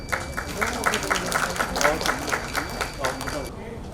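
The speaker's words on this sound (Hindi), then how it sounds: "जोरदार तालियों से" A crowd of listeners at a political speech breaks into applause, a dense stretch of clapping that swells and holds for several seconds, heard alongside a voice.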